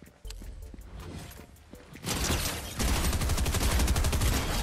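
Fortnite gunfire: a few spaced, lighter shots, then a burst of rapid, loud, continuous firing that fills the second half.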